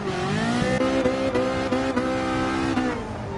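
A mid-engine race car on a wet track in GT Sport: one loud, close engine held at high revs, dipping and climbing with quick gear changes for a few seconds, alone with no talk.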